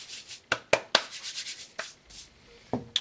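Hands rubbing and working shortening through empanada dough in a bowl, giving soft rustling, scraping sounds with a few sharper taps, close and alone.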